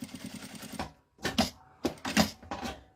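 A sewing machine runs a seam along the very edge of fabric for a small wallet, in short rattling bursts separated by brief pauses, fairly quiet and close.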